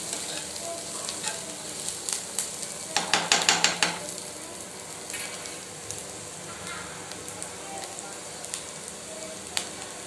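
Cauliflower fries in a pan with a steady sizzle, broken by a cluster of sharp scraping clinks where it is stirred, and a few scattered taps follow under the constant frying noise.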